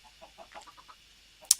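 Chickens on a Minecraft chicken farm cluck softly in a short string of quiet, evenly spaced calls, followed by a brief sharp click at the end.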